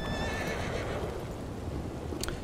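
A horse whinnies in the video game Red Dead Online, a short high neigh at the start over a steady bed of ambient game noise, without any talk.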